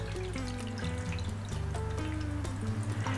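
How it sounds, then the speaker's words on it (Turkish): Tap water is poured into the bottom of a baking tray, with a faint, close trickle and light splashy drips running steadily for a few seconds. "Arkasından musluk suyunu tepsinin dibine koyuyorum."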